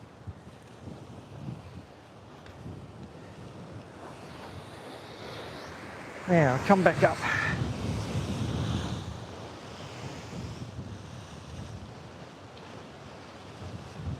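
A big ocean swell rolls and breaks steadily on the open coast, with wind buffeting the microphone. A louder wave surge builds midway, and a brief spoken remark comes over the surf.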